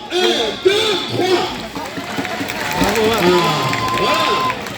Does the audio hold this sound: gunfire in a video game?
no